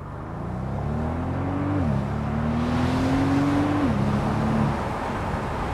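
A rear-wheel-drive Maybach S 650 with a 7-speed automatic accelerates hard: a steady engine tone climbs, drops at a gear change, then climbs again to a second upshift. The engine sounds close, loud and continuous, with no talking.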